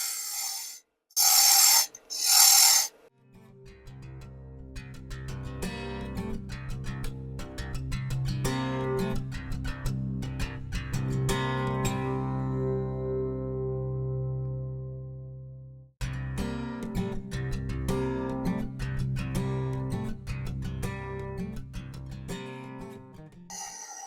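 A wood lathe spins a wooden baby rattle blank, its steady motor hum layered with scraping tool contact and clicks, after a few brief sharp bursts at the start; a short pause midway before turning resumes.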